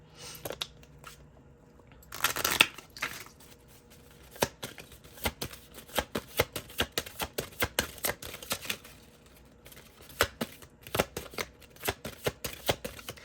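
Tarot cards being shuffled by hand at close range: a dense burst of riffling, then a long run of crisp, rhythmic card slaps and flicks with no talking.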